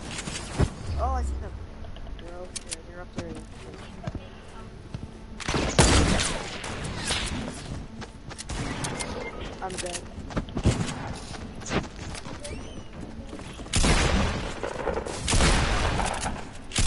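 Gunfire in the video game Fortnite, sharp shots and bursts scattered through the stretch with heavier blasts near the middle and end, mixed with game effects and a player talking.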